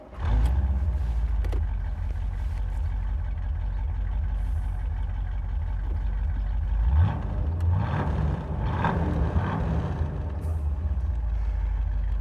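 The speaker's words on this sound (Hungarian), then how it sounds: "A V8-as billegteti a kasznit," A Chevrolet Corvette C3 with the L-48 V8 and three-speed automatic idles loudly and steadily up close, a deep continuous rumble that swells slightly partway through, with no talking over it.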